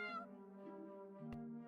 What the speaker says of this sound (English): I'm not gonna voice the cat sounds